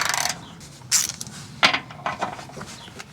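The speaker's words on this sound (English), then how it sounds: "let's get these two 18mm nuts undone" Metallic clicks and creaks of a ratchet undoing tight 18mm nuts on the engine mount of a 2003 Volvo XC90 D5, in several short, irregular bursts at close range.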